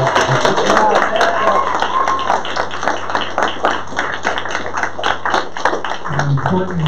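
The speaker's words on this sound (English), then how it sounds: "Let's give a round of applause." An audience at a poetry recitation event in a comedy club gives a round of applause, steady crowd clapping beneath a voice speaking over it.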